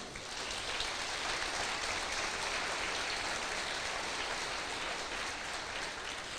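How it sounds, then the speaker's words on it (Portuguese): Steady, dense applause from a church congregation during a sermon, filling the whole stretch evenly at moderate level with no speech over it. "Você pode aplaudir a ele?"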